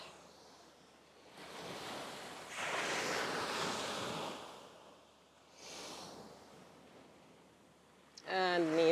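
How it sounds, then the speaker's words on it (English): Ujjayi breathing during a slow hatha yoga flow: the throat is narrowed so each breath rushes like distant ocean surf. Two long, soft whooshing breaths rise and fade, then a voice briefly begins at the very end. "add an ujjayi breath, restricting the back of your throat and sounding like the ocean"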